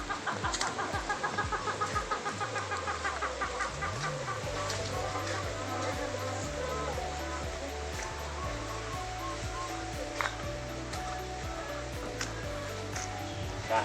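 Hens cluck steadily at an egg-laying poultry farm, a dense, continuous chorus of clucks and calls with a rooster-like crow mixed in, fairly close and loud against a constant background hiss.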